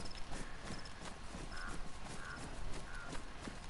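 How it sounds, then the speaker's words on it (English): Crows cawing in an outdoor setting in the survival game DayZ, several short caws repeating at intervals over a constant low rumble of ambient noise, with soft footstep-like thuds mixed in. "with the noise of the birds"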